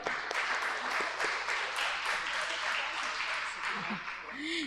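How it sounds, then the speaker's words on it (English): Audience applause for the panelists at a grant symposium in Guwahati, a steady wash of many hands clapping for several seconds, with a voice rising briefly near the end. "can we all have a round of applause for all the panelists here?"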